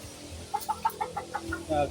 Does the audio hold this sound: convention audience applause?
no